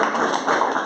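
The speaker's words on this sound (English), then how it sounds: "Give it another huge round of applause for Angela." An audience at an art gallery's opening reception gives a brief burst of dense, continuous applause lasting under a second.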